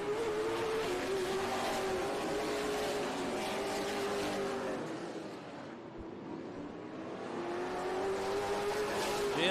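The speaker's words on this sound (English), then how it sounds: "I may have the audio a little bit hot from the race cars" Race cars circling during Friday night practice at Madera Speedway, their engines droning in a steady high-pitched whine that swells, fades briefly as a car moves away, then builds again, heard from trackside at moderate distance.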